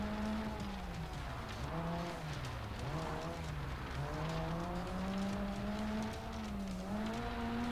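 Rally car in the video game Sebastien Loeb Rally, engine droning steadily with pitch rising and dipping as it slides through corners, tire noise underneath, continuous and fairly loud throughout.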